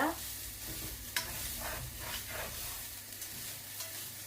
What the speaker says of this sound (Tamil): இப்போ எல்லாம் சேர்ந்து நல்லா மிக்ஸ் பண்ணியாச்சு